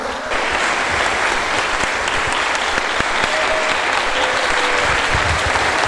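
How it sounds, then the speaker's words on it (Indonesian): A church congregation claps together in sustained, dense applause during a worship service, loud and steady from start to finish with no pauses. "kita memberikan tepuk tangan 1 menit untuk Bapak Yahweh"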